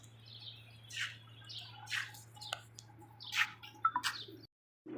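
Pigeons at a farm that keeps pigeons and chickens give scattered faint chirps and short calls at uneven intervals over a steady low hum, with no voices.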